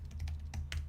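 Quick keystrokes on a computer keyboard, a short burst of about five soft clicks, close and fairly quiet, with no voices.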